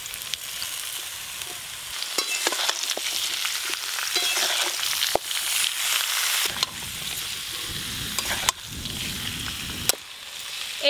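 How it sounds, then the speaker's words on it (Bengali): Potatoes and boiled young jackfruit fry in a pan, a steady close sizzle throughout with scattered clinks and scrapes of stirring and a few sharper knocks. "সব আলুগুলো অর্ধেক ভাজা হয়ে গেছে, এর উপর দিয়ে সেদ্ধ করে রাখা এঁচোর দিয়ে আলু আর এঁচোর বেশ ভালো করে ভাজবো।"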